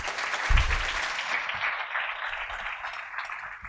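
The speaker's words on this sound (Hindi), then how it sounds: "इन कवियों के लिए ज़ोरदार तालियां हो जाएं" An audience at a campus Hindi poetry event applauds the poets, a broad wash of many hands clapping together that holds steady and slowly thins out, with a brief low thump near the start.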